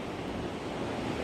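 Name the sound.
glacier meltwater stream flowing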